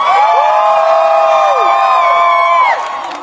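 Crowd at a Palestine solidarity rally in St. Paul, Minnesota, cheering loudly and close with sustained high whoops and shouts that hold steady for about three seconds before tailing off.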